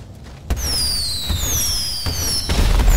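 Fireworks in the video game GTA 5 go off as a few sharp bangs, with long whistling trails that slide downward overhead. They sound loud and close.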